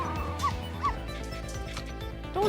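Dog barks and whimpers in the Ghost Trick video game, short yips and whines ringing over a steady game soundtrack, with no talk.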